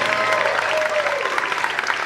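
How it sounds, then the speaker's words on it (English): Audience applause at an ArcAttack performance, a steady wash of many hands clapping with a faint tonal whine sliding downward through it. "give a round of applause,"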